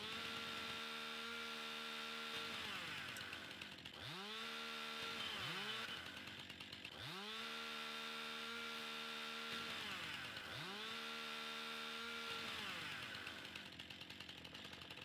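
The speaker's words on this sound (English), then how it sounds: "Chainsaw doesn't do anything to it." Chainsaw in the farming video game Farming Simulator 19, a loud buzzing engine that repeatedly revs up and drops back in several bursts over a continuous idle, with no talking.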